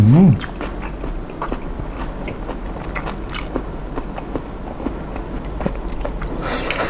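Close chewing of fresh grilled egg-bearing squid, soft and moist, with steady wet bites and mastication sounds continuing alone after a brief voice at the start.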